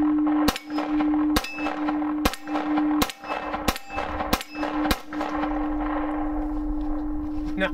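Pistol shots fired with Badman bullets crack out one after another, six or seven sharp, loud, evenly spaced reports, each ringing briefly before a quieter tail.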